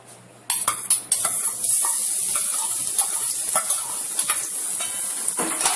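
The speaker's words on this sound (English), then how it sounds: "I have a tablespoon of vegetable oil hot in. So I'm just going to add a tablespoon of chopped garlic" Chopped garlic drops into hot vegetable oil in a pot and fries with a steady close sizzle, plus a few clinks and stirring scrapes after the first loud splash.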